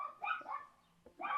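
A dog gives two or three short barks close by, with a brief pause between them.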